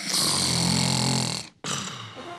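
A person snoring loudly and close by, one long rasping snore that cuts off sharply, then a short pause before the next harsh inhale begins.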